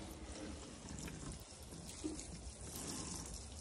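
Water poured from a watering can onto potted geraniums in a garden, a soft continuous splashing trickle, faint and steady with no talk.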